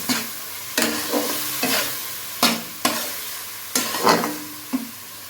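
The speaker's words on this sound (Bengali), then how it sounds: "আদা রসুনটা যতক্ষণ ভাজা ভাজা হচ্ছে" Ginger garlic paste sizzling in a pan while cooking a Bengali prawn and banana-flower dish, a soft continuous fry punctuated by sharp, distinct spatula scrapes and knocks spaced about half a second to a second apart.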